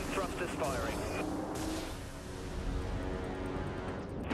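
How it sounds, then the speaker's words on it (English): Corvette maneuvering thrusters fire in the Dreadnought space combat game, making a loud, sustained roaring blast that booms steadily throughout and stays dense and heavy. A game voice may speak over the thrusters. "Maneuvering thrusters firing."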